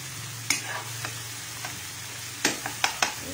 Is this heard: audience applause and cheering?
no